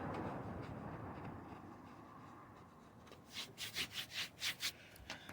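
A sandpaper block scrubs over Bondo body filler on a car panel, the soft low rasp growing into a series of quick, louder back-and-forth strokes toward the end, close and alone.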